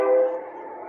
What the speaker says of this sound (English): We're all gonna have to get used to the train whistle